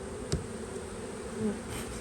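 Honey bees buzz at an open beehive during frame inspection, a soft steady hum of many insects with one louder bee passing close, faint and continuous.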